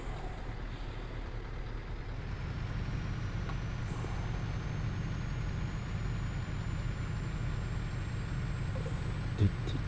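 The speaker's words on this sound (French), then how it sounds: "on va quand même prendre le camion Iveco" An Iveco truck driven in a farming simulator game gives a steady, low engine drone with road rumble that holds at an even level throughout, with no talking.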